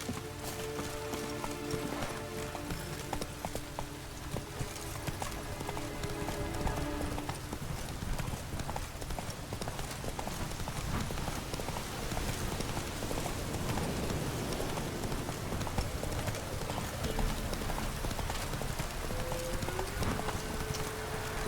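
Horse hooves clip-clop steadily in The Witcher 3 video game, a continuous trotting rhythm that stays close and fairly loud against background game ambience, with no one talking.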